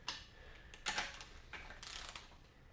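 A torque wrench tightens bolts on a Honda Civic D16 engine during a turbo build, giving a few close mechanical ratcheting clicks and short metallic scrapes in separate bursts, quiet and without speech.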